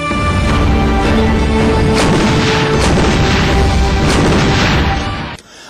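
A howitzer artillery gun fires in a loud, sustained roaring blast that holds steady for several seconds before cutting off sharply, heard alone without voices.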